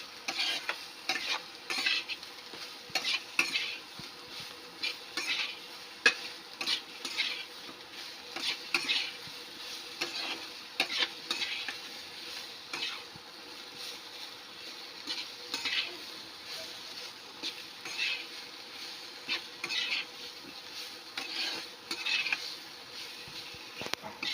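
Eggplant frying in a little oil in a pan: a constant crackling sizzle broken by rhythmic spatula scrapes and stirs, close and moderately loud, steady for the whole stretch with no voices.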